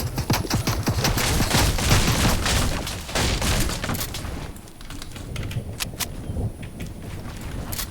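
Rifle gunfire in a video game rattles off as a dense, loud burst of rapid shots over the first few seconds, then thins into scattered, more distant reports and footstep-like thuds.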